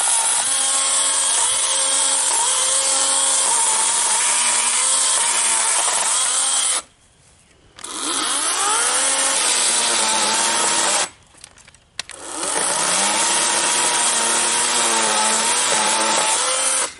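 A battery chainsaw cuts a peach tree branch into firewood, its loud, high motor whine holding steady through long cuts, dropping out twice for short pauses before revving back up close by.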